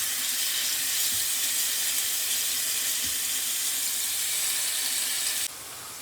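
A blended paste of ginger, garlic and onion goes into a hot pan with oil to start a pabda fish curry, producing a loud, continuous hiss and sizzle that drops slightly near the end.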